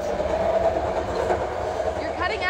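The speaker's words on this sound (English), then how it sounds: "I'm on the train." Train running on rails: a steady, close rumble with a rhythmic rail clatter under it, and a brief bit of voice near the end.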